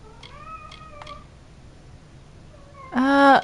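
A pet cat in the game Amalur lets out a loud, harsh, drawn-out yowl near the end, preceded by a couple of quieter wavering cries, with no one speaking.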